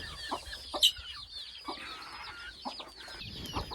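Chickens and small chicks cluck and peep in short scattered calls, close by at moderate volume, with quiet background between the bursts.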